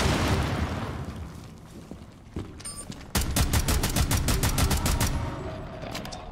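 Gunfire and an impact grenade in the video game Rainbow Six Extraction: a muffled burst and thud, then a sharp blast followed by rapid, loud automatic fire in even repeated shots.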